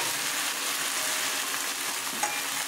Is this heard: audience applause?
no